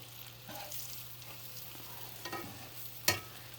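Green tomato slices frying in a thin layer of oil in a pan, a quiet continuous sizzle with a few soft utensil scrapes and one sharp metallic tap near the end.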